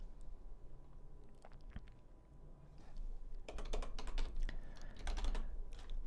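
Someone types on a computer keyboard, a few scattered keystrokes at first, then a faster run of close, crisp clicks.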